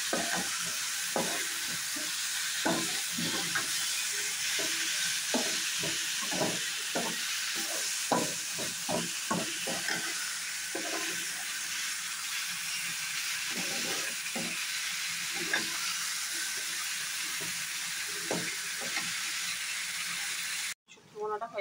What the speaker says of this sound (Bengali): এবার আমি আরেকটু ভালোভাবে নেড়ে চেড়ে ভেজে দেবো।